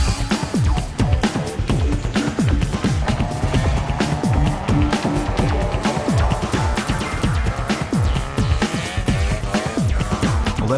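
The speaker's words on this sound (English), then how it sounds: "One of the most exciting forms of racing in Japan is drifting." Drift cars sliding sideways at a Mazda track meet in Ebisu, Japan, with engines droning continuously beneath dense, repeated tire squeals and rasping bursts, loud and close throughout.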